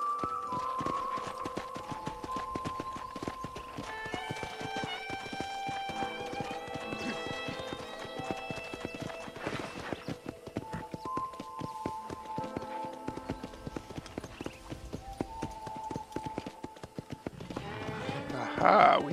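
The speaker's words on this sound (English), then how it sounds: "Let's grab this black horse." A black horse's hooves clip-clop at a walking pace on a ranch in the Western game Red Dead Redemption, a long, even patter of quiet strikes under a melodic soundtrack that grows busier near the end.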